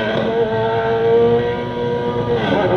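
A Honda CB1000 motorcycle engine with a large exhaust revs steadily nearby, its droning note rising slightly as it accelerates, loud and continuous with no talking.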